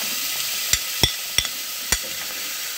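Carrots fry in a hot pan for chicken soup, giving a steady bright sizzle broken by four or five sharp clicks of a utensil stirring against the pan, close and without speech.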